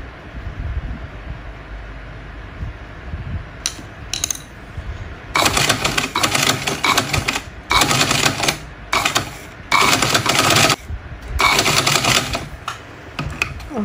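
Sewing machine stitching a Shanghai collar onto a dress neckline, with quiet handling noise at first, then several loud rapid clattering bursts separated by short pauses, close up and without talking.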